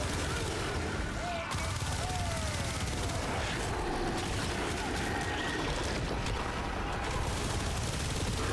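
Gunfire from a secondary weapon in Operation Gargoyle plays as a dense, continuous barrage mixed with in-game effects, loud and sustained throughout.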